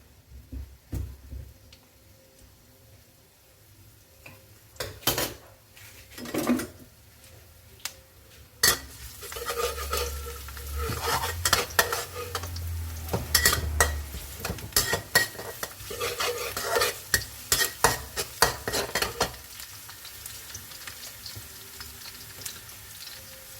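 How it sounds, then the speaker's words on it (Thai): Garlic sizzles in hot oil in a pan for a stir-fried morning glory with shrimp paste dish, with repeated stirring scrapes and utensil clinks building into a steady, close frying hiss in the middle, then easing off. "เจียวกระเทียมให้หอมๆเลยค่ะ"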